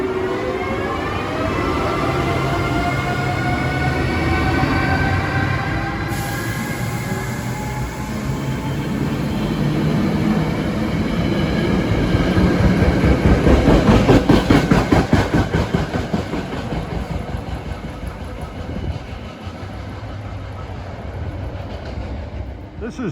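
An ACS64 electric locomotive hauls a train out of Bryn Mawr station on the old Pennsylvania Railroad main line, its rumble building to a loud peak with rhythmic wheel clatter before easing off.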